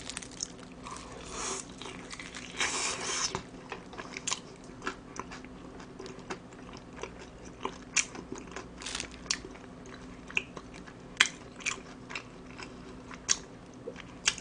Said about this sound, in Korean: 소스 찍어서 듬뿍 찍어서 먹어볼게요